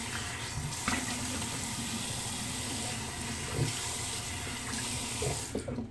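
A water tap runs steadily at a sink while a safety razor is rinsed under it, with a continuous close splashing flow and a few small clinks.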